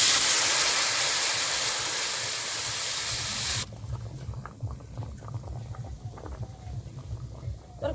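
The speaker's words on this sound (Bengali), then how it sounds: "তরকারি ঝোলটা একদম ফুটে গেছে" Curry broth for a rohu fish and cauliflower dish boils hard in a pot, first with a loud, steady steamy hiss that cuts off abruptly, leaving close, continuous bubbling and popping.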